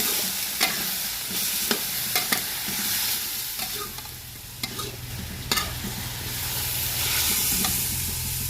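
Long beans stir-fried with a splash of water for a Thai pad cha fish dish, giving a steady close sizzle and hiss broken by sharp scrapes and clacks of the spatula, with no talk.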